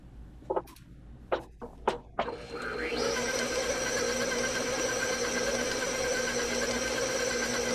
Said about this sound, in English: And my mixer's getting hot.